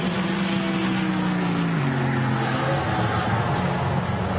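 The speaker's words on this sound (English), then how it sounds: "As the Mustang rumbles over the start-finish line, the V8 roar can be heard out around the circuit." A loud, throaty V8 Ford Mustang GT4 race car engine roars past at speed on the Nürburgring circuit, its pitch dropping as it goes by, with steady background noise.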